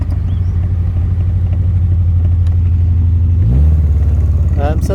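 Raynard Triumph car engine idling with a suspected misfire, a loud, steady low rumble close by that rises briefly in pitch as it is revved near the end, with voices talking over it.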